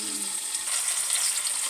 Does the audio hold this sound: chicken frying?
yes